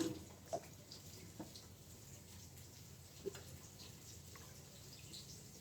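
Vegetables are washed under running water, a faint steady trickle close by, with a few soft splashes and drips scattered through it.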